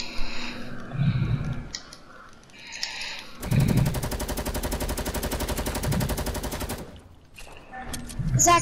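Rapid automatic assault rifle fire in the online shooter game Fortnite, a dense unbroken burst lasting a few seconds, loud and close, with brief quieter game sounds and shots before and after.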